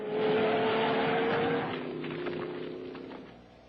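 A vehicle engine roars through a wild truck ride in a film scene, loud and close. A sustained tone sweeps and fades as the vehicle races off, with faint skids or rattles near the end and no voices.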